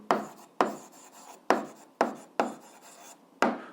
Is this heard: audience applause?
no